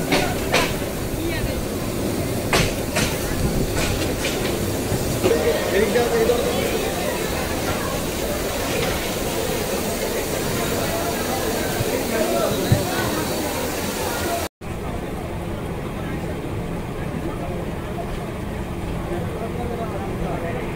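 Heavy downpour drums steadily on a moving passenger train in Bangladesh, bound for Dhaka near Gafargaon station, a dense continuous hiss with faint rumble underneath, ending in an abrupt cut to a quieter, duller stretch.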